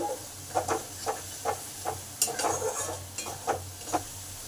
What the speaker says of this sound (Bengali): যে মশলাটা গুলে এসেছিলাম সেটা দিয়ে দিলাম মশলাটাকে ভালো করে কষে নেব